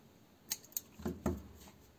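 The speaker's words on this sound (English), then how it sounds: "cut yarn" Scissors snip crochet yarn up close: a couple of sharp, faint clicks followed by two fuller cutting sounds, quiet and alone.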